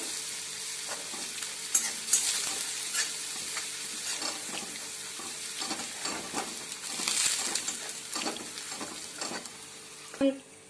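Ginger-garlic paste and coriander sizzle and fry in a pan with repeated stirring scrapes, fairly close, steady hiss punctuated by clinks of a utensil, no talking.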